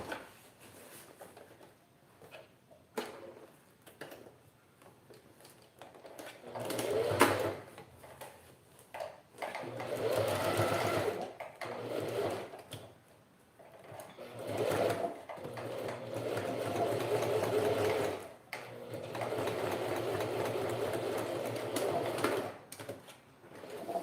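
A sewing machine stitching a strap onto a men's toiletry bag runs in close, loud bursts of rapid mechanical whirring, pausing and restarting several times with longer continuous runs toward the end.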